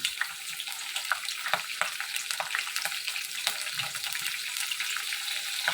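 Oil crackles and spits steadily as green chillies and seasoning seeds fry in a hot pan, a dense hissing sizzle with sharp pops scattered throughout, close by.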